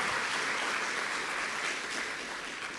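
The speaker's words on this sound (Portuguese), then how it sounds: "aplauda a Jesus aí por essa vitória." A church congregation applauding: a thick wash of many hands clapping at once, steady and sustained, fading slightly toward the end.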